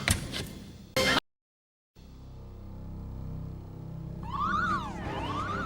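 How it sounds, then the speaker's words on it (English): An intruder alarm trips in a ready room as a radio-drama effect: a sharp burst, a gap of silence, then a steady hum with a rising and falling electronic siren sweeping in near the end, loud and close. "the intruder alarm's tripped in the ready room."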